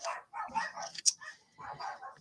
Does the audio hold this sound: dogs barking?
yes